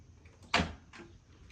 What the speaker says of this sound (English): the first thing you do is you open the coin door